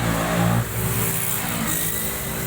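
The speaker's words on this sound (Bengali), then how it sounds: "ফাটা বাইক নিয়ে চালাচ্ছে, আর ও গোটা বাইক নিয়ে রেস চালাচ্ছে।" A motorbike engine revving hard while racing on a road, a loud close continuous roar with a surge at the start that settles into a steady drone.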